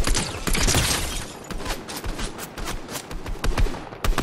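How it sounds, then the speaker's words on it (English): Dense gunfire from a video game shootout rattles continuously, rapid overlapping shots and bursts, loud and close, with a sustained roar underneath and no voices heard. "Two people shooting at me."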